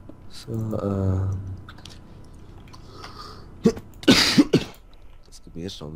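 A person coughs several times in a quick, harsh burst close to the microphone, following a stretch of talking.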